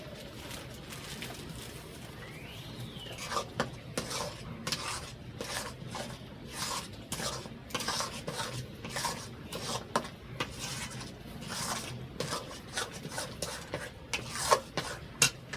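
Chhena being stirred with Amul milk in a pan for sandesh, giving a steady run of soft rubbing and scraping strokes with occasional light clinks of the utensil against the pan. Close and moderately quiet, with no talking.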